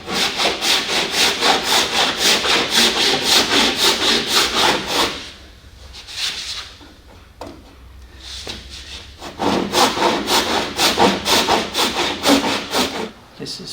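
Hardened body filler on a Scion tC being sanded by hand with sandpaper, a loud rhythmic back-and-forth scraping in quick regular strokes that pauses midway, then resumes.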